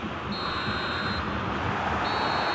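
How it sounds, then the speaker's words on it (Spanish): Referee whistle in a football video game at the end of a Bayern versus Sevilla match, sounding as two long shrill blasts over a steady roar of stadium crowd noise. "Tres pitidos del silbato y todo termina."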